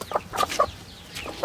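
Aseel chickens, hens with a white rooster, cluck in short close bursts, several separate calls spread across a brief stretch with no talking.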